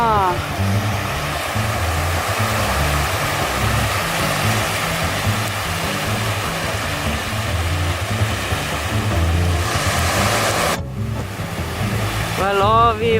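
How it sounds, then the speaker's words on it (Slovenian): Ocean surf washing over rounded stones on a Madeira shoreline, a loud continuous roar of waves with wind buffeting the microphone, while people talk faintly over the rush of water. "Valovi."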